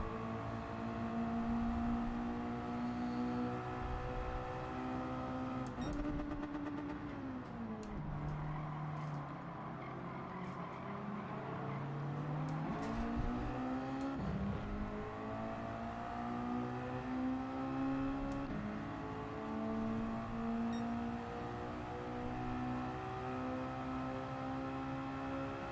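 A race car engine in Gran Turismo 7 drones steadily throughout, its pitch dipping and climbing again through gear changes and corners, with the tone held loud and continuous and no voices over it.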